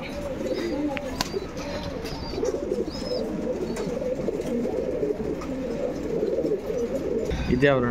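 Line pigeons kept for sale in Bangalore, soft repeated cooing and occasional chirps close by over a busy background, with people talking and a brief flutter near the end.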